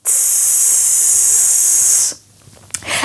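A loud, steady hissing exhale on a voiced TS sound lasting about two seconds, then near silence and a brief breathy sound at the end.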